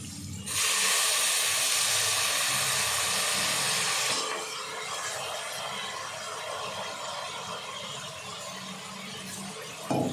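Soaked rice being stirred and sautéed with onions in a hot pan: a loud bright hiss and sizzle for the first few seconds, then a softer steady frying crackle continuing to the end.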